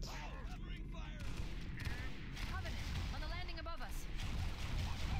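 Rapid gunfire from a battle rifle in the Halo SPV3 game, a dense stream of shots and impacts running continuously through the whole stretch at steady loudness, with game effects layered over it and someone talking.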